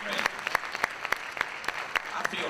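An audience applauds at a school board candidates forum, with a close crowd of clapping hands producing rapid sharp claps over a dense, sustained burst, with some speech heard within it.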